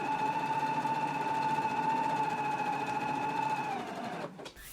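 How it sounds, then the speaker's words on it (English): Sewing machine basting the raw edges of a jacket collar together, a steady close whirring hum with a clear motor tone that winds down and stops near the end. "we can go ahead and baste the raw edges together now"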